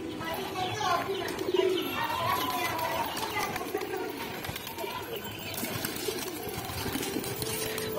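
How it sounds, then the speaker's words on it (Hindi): Pigeons coo softly amid birds chirping, with people talking and children's voices in the background throughout, during an attempt to catch a pigeon. "अरे हमारे काफी कबूतर दिक्कत कर रहे हैं।"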